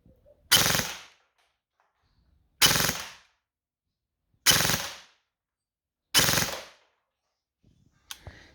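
Airsoft gun firing on full auto, four loud rapid bursts of about half a second each, spaced roughly 1.5 seconds apart with silence between, close to the microphone.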